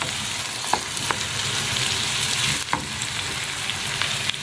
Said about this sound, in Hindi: ये जी देखें मैं प्याज फ्राई कर रही हूँ